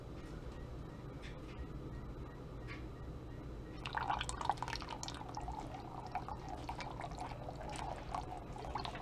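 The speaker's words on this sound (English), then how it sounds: "I'm going to do a drop swirl, and I'm going to pour this one from up high" Melted soap batter for a drop swirl is poured from high up, a soft liquid trickle and splatter starting midway over a low background hum.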